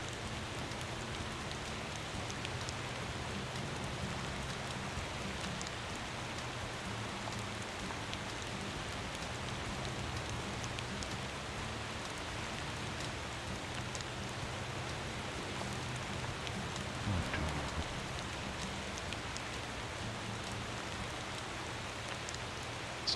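Steady, even rain hiss in the video game Motor Town, with soft patter throughout, fairly quiet and unchanging, with no voices.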